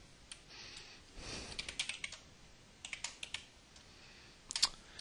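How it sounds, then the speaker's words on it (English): Computer keyboard keys tapped while typing C# code, quick clusters of light clicks in uneven bursts with short pauses, close and clear with no talking. "So let's type some code out here."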